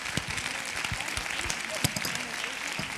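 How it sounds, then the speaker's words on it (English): Audience applause at a community forum on sex and human trafficking, steady clapping from a crowd with a few louder nearby claps and some voices mixed in. "give all of them a round of applause"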